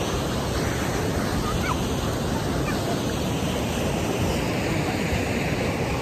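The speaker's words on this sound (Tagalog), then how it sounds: "Ang kanami isang dagat" Steady, loud wash of sea waves on the beach at Pangyan Glan, a continuous broadband roar with no distinct breaks and no voices.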